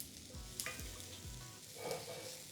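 Garlic frying in a pan, a soft steady sizzle close by with faint stirring scrapes, alone with no voices and fairly quiet.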